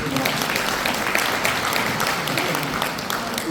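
A hall audience at a humanities lecture gives sustained, even applause, many hands clapping together at steady volume throughout.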